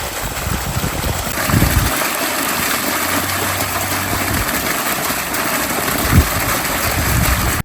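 A farm water pump motor runs steadily while water gushes and flows nearby, forming a loud, continuous rushing wash with a faint low hum underneath and occasional splashes.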